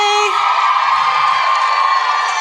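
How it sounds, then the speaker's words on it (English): A live audience at a show at the Fillmore in Detroit cheers loudly, with whoops and shouts rising into a sustained, bright roar of many voices that stays strong throughout. "There was like a second wave of even more intense cheering."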